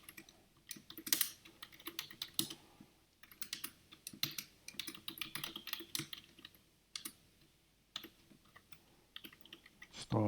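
Rapid typing on a computer keyboard, close and clear, with uneven bursts of key clicks and short pauses throughout, no voices.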